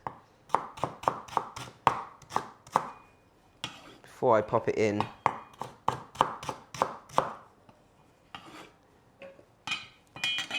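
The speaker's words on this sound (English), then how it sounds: "I'm just roughly chopping up the ingredients" A knife chops roughly through onion and other bulgogi marinade ingredients on a cutting board in quick rhythmic bursts of sharp close knocks, broken briefly by a voice speaking in the middle.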